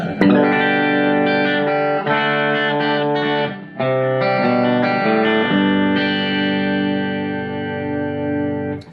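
Clean electric guitar chords from a Fender Telecaster's bridge pickup, no reverb, ring out bright and sustained, strummed a few times with long decays, no voice.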